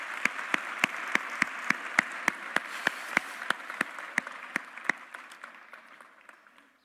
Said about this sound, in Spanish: Un aplauso a este caballero, por favor.